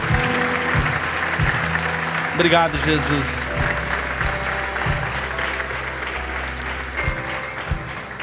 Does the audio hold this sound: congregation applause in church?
yes